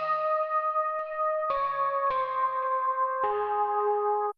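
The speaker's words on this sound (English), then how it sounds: "I used this little like calm like synth patch." A calm synth patch plays a slow melody of sustained, bright tones, with new notes entering at a gentle, unhurried pace and each note ringing out and decaying before the next. No other sound is present.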